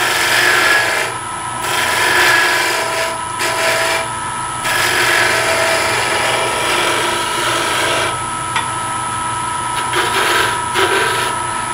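Wood being touched up on a lathe with a spindle roughing gouge, shaping a curved bamboo-style detail on a furniture spindle: a steady close whirring rasp of the tool on spinning wood, with brief pauses and changes in pressure.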